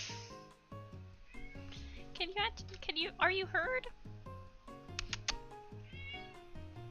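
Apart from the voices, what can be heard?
cat meowing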